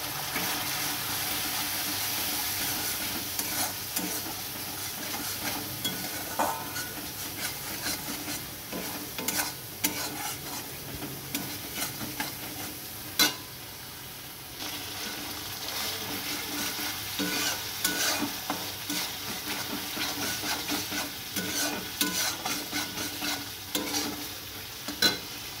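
Chilli powder, spices and slit green chillies are stir-fried in a pan with a little added water, giving a continuous sizzle under repeated scraping strokes of a spatula, close and uneven in rhythm.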